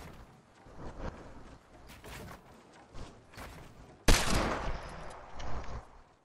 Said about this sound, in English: are we getting sniped?